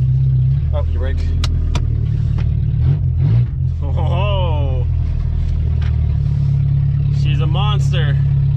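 A 1994 Volkswagen Golf 3 rescued from a junkyard, with no power steering, drives along with a steady low engine drone and a rising rev, heard from inside the car while people talk over it.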